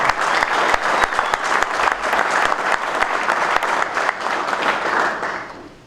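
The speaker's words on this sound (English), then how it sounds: "round of applause everyone in this room" A roomful of golf professionals at a spring association meeting breaks into loud, sustained applause, dense clapping that holds for several seconds before trailing off at the end.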